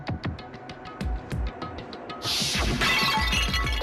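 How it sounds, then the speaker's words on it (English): Glass bottle smashed over a head in the video game Danganronpa: Trigger Happy Havoc, a loud shattering crash with scattered glass debris following a string of sharp rhythmic taps, set against background game music. "I grabbed the Monokuma bottle from the shelf and smashed it across her head."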